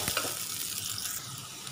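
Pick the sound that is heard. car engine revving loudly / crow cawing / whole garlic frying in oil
whole garlic frying in oil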